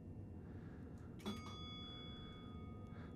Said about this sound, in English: that's what I'd call a guards bell normally